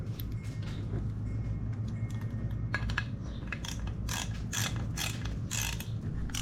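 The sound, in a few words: ratchet tightening bolts with a 5mm Allen bit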